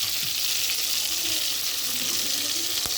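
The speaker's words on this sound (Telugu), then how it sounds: "ఇవన్నీ తాలింపు వేసుకుంటున్నాను" Tempering of curry leaves and cumin fries in hot oil, a dense, continuous crackling sizzle with occasional stirring clinks, close and steady throughout.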